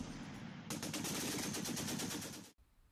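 A WWII Vickers machine gun fires a single rapid, evenly spaced burst of about two seconds, loud and close, then cuts off abruptly into quiet.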